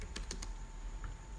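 Light typing on a computer keyboard, a few quick crisp key clicks near the start and one more later, fairly quiet over a steady room hum.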